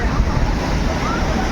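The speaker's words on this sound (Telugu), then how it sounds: "కొంచెం అలల తీవ్రత ఎక్కువగానే ఉంది" Strong sea waves break at Kanyakumari in a steady, dense roar that fills the whole moment, with wind buffeting the microphone throughout.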